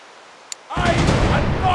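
In a mobile ship battle game, after a brief quiet moment with a small click, a heavy boom erupts and rolls into a sustained loud rumble of ship cannon fire.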